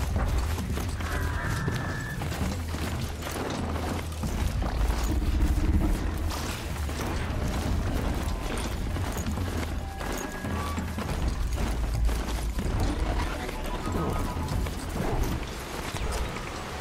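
Hoofbeats of a horse mount in Horizon Zero Dawn: a steady, rhythmic clip-clop of galloping hooves with mechanical clanks and occasional booms from the game, continuous throughout without talk.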